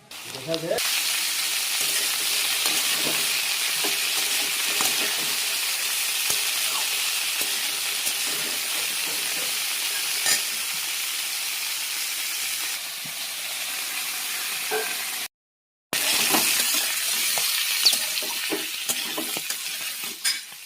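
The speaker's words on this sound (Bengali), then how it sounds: "তেল গরম হয়ে গেছে, এবার এক এক করে সব ভাজবো।" Cauliflower, potato, beans and radish fry in hot oil in a kadai with a loud, dense, continuous sizzle, broken by occasional stirring scrapes and a brief cut near the end.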